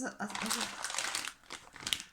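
Plastic bag holding vintage necklaces and clip-on earrings crinkles loudly as the jewellery is pulled out, in bursts of rustling close to the listener.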